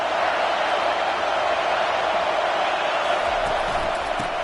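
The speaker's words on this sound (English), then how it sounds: "this crowd trying to help keep them there" A large stadium crowd roars and cheers at a football game, a dense, sustained wash of noise that holds steady throughout with no clear peaks.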